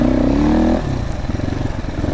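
A GPX FSE300R motorcycle engine revs loudly and steadily up close, its pitch rising briefly before dropping into a rougher, pulsing idle-like throb.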